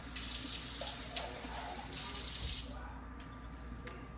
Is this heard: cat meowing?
no